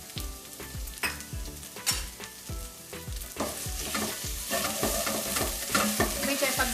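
Turmeric powder being stirred into potatoes and cauliflower frying in a pan for aloo gobi, with a steady run of spoon scrapes over a sizzle that builds and grows louder toward the end, and no talking.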